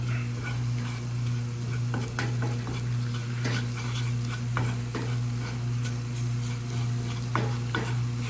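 Onion, celery and bell pepper frying in oil and flour for a roux, stirred steadily, a close constant sizzle with scraping spoon strokes and light clicks over a low hum, no talk.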